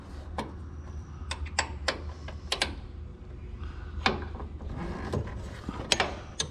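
A wrench clicks and taps on a fastener during a car roof swap, a scattering of sharp, irregular metallic ticks over a quiet background.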